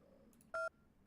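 A single telephone keypad tone from handset dialing in the 1998 Hong Kong indie game COMER, one short clear beep after a couple of faint clicks over quiet background hiss.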